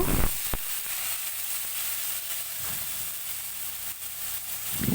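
Spices frying in a pan for a sola kochu (taro) curry, a steady moderate sizzle with a sharp knock near the start and a few soft bursts as boiled taro goes in.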